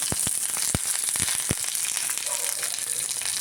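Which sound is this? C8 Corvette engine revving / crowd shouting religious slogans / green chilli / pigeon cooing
green chilli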